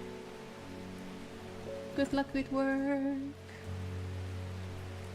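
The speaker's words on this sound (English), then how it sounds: "So sorry for the rain." Steady rain in the Strange Horticulture video game, a constant soft hiss of falling drops continuing beneath a person speaking briefly and a low tonal hum.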